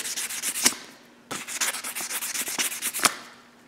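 A cobbler's sewing machine bobbin is polished smooth by hand, giving close, rhythmic rubbing and sanding strokes in two bursts separated by a short pause.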